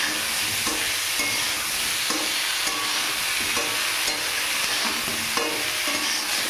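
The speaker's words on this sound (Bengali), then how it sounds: "ফুলকপিটা হালকা ভেজে নেব একটু।" Cauliflower tossed with turmeric and salt frying in a pan, a loud, close, constant sizzle punctuated by regular scraping stirs roughly every half second, with no voices.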